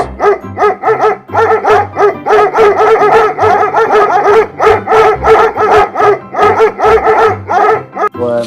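A dog barks loudly and continuously in rapid bursts, with yips and howl-like whines mixed in, close to the microphone and filling the whole stretch.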